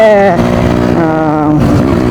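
A Suzuki Samurai two-stroke motorcycle engine runs up close and loud, its droning tone shifting in pitch as the throttle rises and falls.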